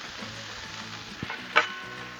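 Chorizo and hamburger meat sizzle on a Blackstone griddle, a short close hiss of frying broken by a couple of quick spatula scrapes.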